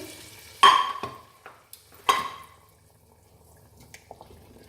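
Two sharp sizzling bursts of hot oil tempering hitting a pan over dal gosht, lentil and meat curry, each fading quickly, followed by quieter clinks and soft stirring sounds.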